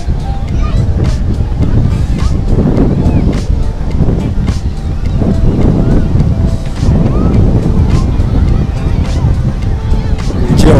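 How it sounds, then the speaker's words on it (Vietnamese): Strong beach wind at Vung Tau in the early evening batters the microphone with loud, constant buffeting roar and gusty rumble, surf washing beneath, steady for the whole stretch. "Chiều gió rất là mạnh."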